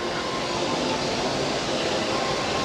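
A theme park train ride, a steady broadband rumble of wheels and motion at close range, continuous and even for the whole stretch with no talking.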